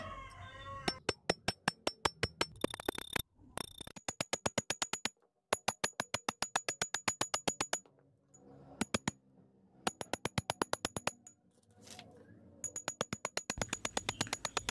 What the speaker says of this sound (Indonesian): Kita pukul terus ini paku yang di dalam botol